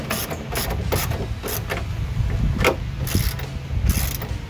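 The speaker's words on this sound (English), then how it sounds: "So go ahead and tighten these down." A ratchet tightens bolts on a tailgate reinforcement bracket of a Jeep Wrangler TJ, giving a loud, close run of rapid pawl clicks in repeated strokes with no talking.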